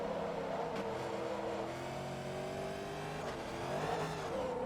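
A Corvette race car engine in Forza Motorsport 2 revs continuously and close, its pitch rising and dipping through gear changes, with no voices over it.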